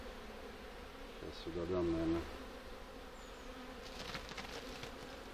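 Honeybees buzz at a hive while hives, splits and queen-acceptance frames are inspected, a low steady drone with a louder hum swelling briefly near the start, and someone speaking over it.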